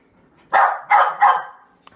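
A pet dog barks three times in quick succession, loud and close, indoors in a family home, followed by a faint short yip.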